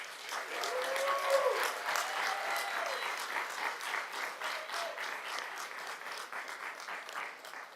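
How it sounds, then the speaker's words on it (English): Sustained round of applause from an audience at a Birmingham city council meeting, a dense steady wash of many hands clapping that fades slightly toward the end, with no talk over it. "So please give them a round of applause."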